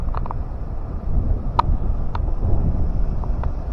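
Strong wind roars steadily across the microphone with a low rumble, punctuated by a few faint clicks.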